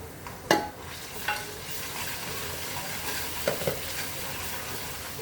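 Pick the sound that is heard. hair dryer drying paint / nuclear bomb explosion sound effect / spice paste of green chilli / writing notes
spice paste of green chilli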